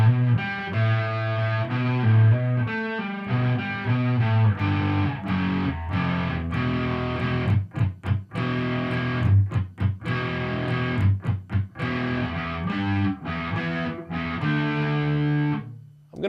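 Distorted electric guitar riff from a song, played loud and continuous with dense chugging chords and a few brief choppy gaps, no voice over it.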